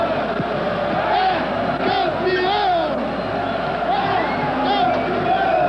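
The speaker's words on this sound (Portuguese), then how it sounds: "Jogadores vibram junto com a galera, os aplausos, muita emoção." Palmeiras fans roaring and chanting in Morumbi stadium after the 1993 Campeonato Paulista final win over Corinthians, a dense crowd roar with rising and falling chant swells throughout, broadcast commentary faintly under it.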